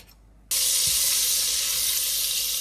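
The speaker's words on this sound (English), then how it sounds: "in the same pan, we're going to add some butter" A knob of butter hits a hot pan used for New England clam chowder and bursts into a loud, steady hiss that holds evenly and close up.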